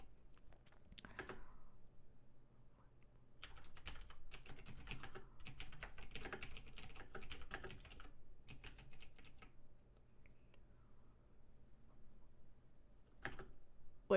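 Computer keyboard typing with bursts of rapid keystrokes, a dense run of clicks in the middle then a lone stroke near the end, close and moderately quiet over a low steady room hum.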